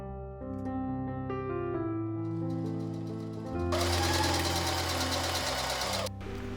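A sewing machine stitches shirt collar pieces along three straight edges, a loud close whirring run that starts partway through and stops near the end, with a low steady hum beneath it.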